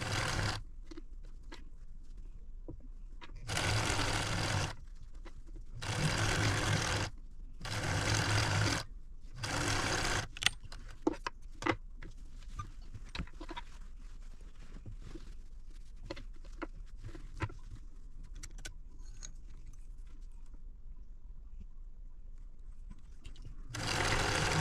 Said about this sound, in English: let's take it back to the machine and sew our 3 rows together